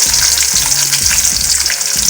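Chopped onions and green chilies sauté in hot oil for a vegetable pulao biryani, giving a steady, close, loud sizzle with light stirring and no talk.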